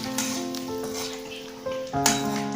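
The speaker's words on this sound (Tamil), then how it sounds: "சட்னியில் தாளித்து ஊற்றிக்கலாம்" Hot tempering with mustard seeds and curry leaves is poured into cabbage chutney, giving a brief, close burst of crackling sizzle over a sustained tonal background, followed by a second sharper hiss.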